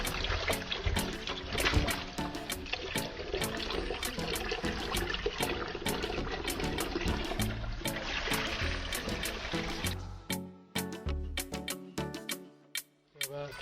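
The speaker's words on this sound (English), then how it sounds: "Wash off the rice." Rice being washed by hand in a bowl of water, a steady busy sloshing and swishing with clinks, settling into intermittent splashes toward the end.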